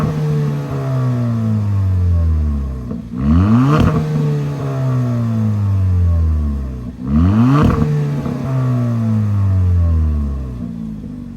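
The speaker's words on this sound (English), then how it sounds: "we have a functional dual exhaust on this Forte" A 2024 Kia Forte GT with a 1.6-liter turbo engine revs hard twice through its dual exhaust, each burst rising sharply before dropping back to a throaty idle; loud and close.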